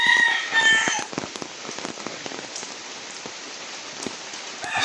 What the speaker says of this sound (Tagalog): Kasi straight na yung ulan na dito.